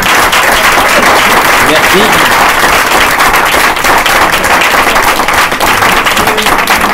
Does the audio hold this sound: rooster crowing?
no